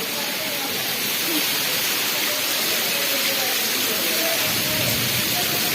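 Heavy monsoon rain pours down steadily in a Gujarat village during a thunderstorm, a constant broadband hiss with no let-up and a faint voice in the background.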